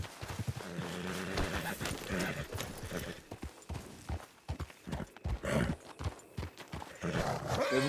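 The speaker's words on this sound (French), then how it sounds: "On va peut-être appeler les chevaux, ça sera plus rapide quand même." Horses' hooves clip-clop in a steady walking rhythm, close by, with a snort or whinny here and there and some brief speech mixed in.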